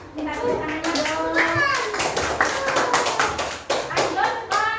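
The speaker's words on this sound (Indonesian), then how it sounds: "Ayo minta tepuk tangannya dong." Young schoolchildren in a primary classroom clap in bursts of sharp, uneven hand claps, with a child's and adult's voices talking over and between them.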